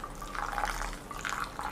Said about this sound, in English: We are going to repeat the same process again, 5 times of pour over, pour high.